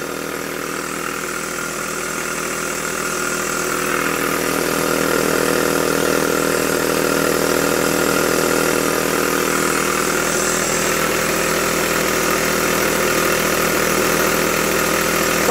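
A Jowitt poppet valve model steam engine runs steadily with slightly wobbling flywheels, making a continuous close mechanical hum and rattle whose level swells a little and then holds without a break.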